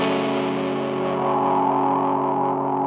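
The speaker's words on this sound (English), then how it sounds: "So I've got it set to just normal because I wanted it to sound like a regular fuzz." A sustained, heavily distorted electric guitar tone with a thick fuzz buzz, held steady and loud without pause.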